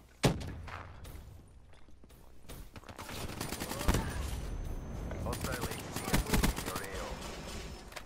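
Rapid gunfire crackles in Black Ops III, with automatic bursts and sharp single shots of varying distance, while someone talks over the shooting.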